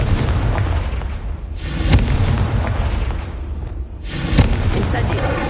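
A Confringo spell is cast in Hogwarts Legacy, giving loud fiery blasts with two sharp bursts standing out over a continuous roaring, crackling wash of noise.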